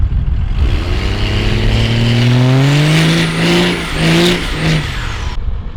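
A 12V Cummins diesel truck with a stage 2 cylinder head, running about 60 psi of boost, does a one-wheel peel, its loud close engine climbing in pitch through a hard rev before easing off with a couple of dips.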